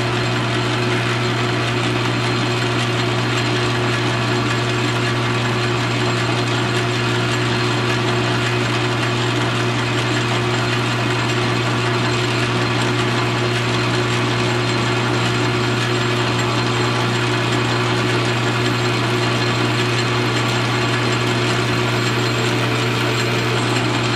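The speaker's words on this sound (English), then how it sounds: "So what I'm going to do right now is just start off with the center drill here." A center drill cuts into a screw blank spinning on a South Bend 13-inch lathe, giving a steady, continuous mechanical whir and hum with a droning low tone that holds evenly, loud and close, with no talking.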